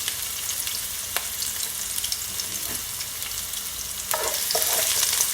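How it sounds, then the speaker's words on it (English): Ingredients sizzling in a hot pan for Jamaican steamed fish and okra, a steady bright frying hiss with brief stirring scrapes, growing louder near the end. "And I'm just gonna allow it to saute just for a couple seconds."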